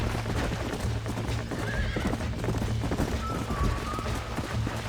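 A horse gallops in Red Dead Redemption, its rapid rhythmic hoofbeats loud and continuous, with a brief whinny and soft game sounds layered in.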